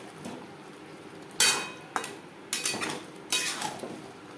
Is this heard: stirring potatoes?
yes